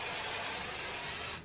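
Hairspray hisses in one steady, close burst over curls formed with a Dyson Airwrap, a loud and even spray lasting just over a second before cutting off abruptly.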